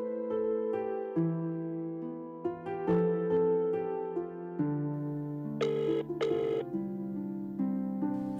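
A phone's melodic ringtone plays on and on, a clear, close electronic tune of repeating notes with no talk over it.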